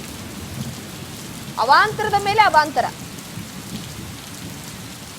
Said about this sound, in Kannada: ಸತತವಾಗಿ ಕಳೆದ 1 ಗಂಟೆಯಿಂದ ಸುರಿತಾ ಇದೆ ಮಳೆ.